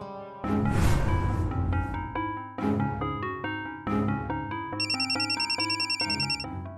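A melodic phone ringtone plays clearly on its own, its tune cycling through repeated chiming notes.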